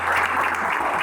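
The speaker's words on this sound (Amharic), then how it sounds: "ሞቅ ያለ ጭብጨባ።" Warm applause from a studio audience at a live Saturday afternoon entertainment show, dense steady clapping filling the whole moment at an even loudness with no voices on top.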